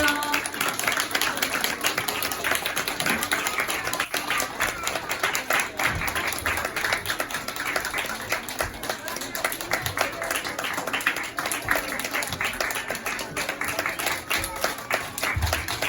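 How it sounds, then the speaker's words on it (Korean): An audience claps at a kindergarten Christmas event, producing steady, continuous applause with a rhythmic pattering quality, and voices can be heard talking and cheering underneath. "아직도 들어오려면 더 남았는데 박수 많이 쳐주세요."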